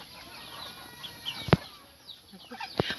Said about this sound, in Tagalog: Ang daming manok nakakulong.